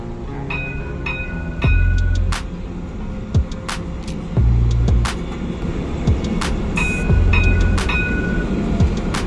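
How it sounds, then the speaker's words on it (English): Ride aboard a Dubai Red Line Metro train, with a steady rumble of motion and recurring low surges as the car accelerates, plus scattered clicks and faint tonal chimes over the running noise, no talking. "today we'll start our journey from Red Line Metro followed by tram to reach our destination."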